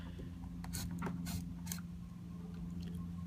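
An X-Acto knife slicing along a glue strip on a Cadillac CTS third brake light, giving a few short, close scraping cuts over a steady low hum.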